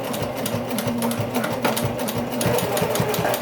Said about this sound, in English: start sewing right down that line that you had previously marked